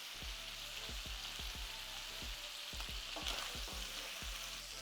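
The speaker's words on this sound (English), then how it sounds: "Just be aware that there might be some popping, as you might see while we're cooking here." Pre-cooked octopus, patted dry, fries in a pan with a steady low sizzle broken by regular sharp pops that come roughly every third of a second, fairly quiet and close.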